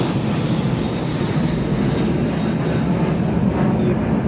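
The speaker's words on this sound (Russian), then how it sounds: "а это самолеты летят" Airplanes fly over a naval parade rehearsal on a city embankment, producing a loud, steady broadband engine roar that holds throughout with no clear rise or fade and no talking.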